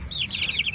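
Chicks and their mother hen: a quick run of high, thin peeps close by, several overlapping calls in a steady flutter with no talking.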